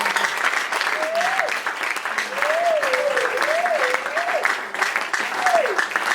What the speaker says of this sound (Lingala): nous l'acclamons.